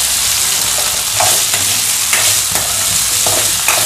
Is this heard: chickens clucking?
no